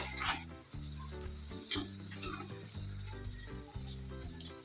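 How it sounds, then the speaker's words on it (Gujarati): Masala paste sizzling and roasting in hot oil for brinjal bharta, a steady close crackling hiss running continuously under a loud music bed. "મિત્રો તમે જોઈ શકો છો તે આપણા મસાલા તેલમાં એકદમ સારી રીતે શેકાઈ ગયા છે"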